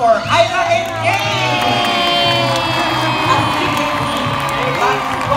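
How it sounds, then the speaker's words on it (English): Audience at a sea lion show in Manila Ocean Park cheering, whooping and clapping loudly, children's shouts mixed into a sustained crowd roar with a voice heard over it. "How about another round of applause for Ayla and Jenny?"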